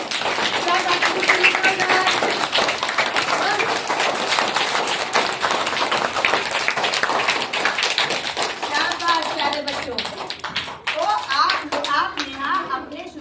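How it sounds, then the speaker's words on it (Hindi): Schoolchildren in a classroom break into loud, sustained clapping for a group of classmates, a dense patter of many small hands that fades slightly near the end while young voices chatter underneath. "तो इस ग्रुप के लिए जोरदार ताली लगाइए"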